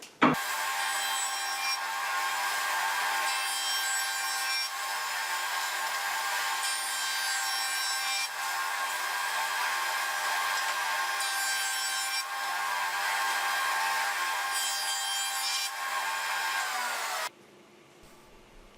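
A jointer planer removes excess epoxy glue from a glued-up laminated wood board, giving a steady, loud whirring cut with rasping texture that runs for most of the clip, then stops abruptly near the end.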